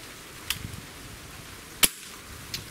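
Umarex Octane break-barrel air rifle fires a single sharp crack near the middle, close and fairly loud, with faint clicks before and after against a quiet background.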